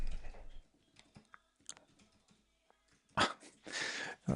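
Typing on a computer keyboard during coding work, scattered light key clicks in irregular bursts, then a louder rapid flurry of clatter near the end, close and alone.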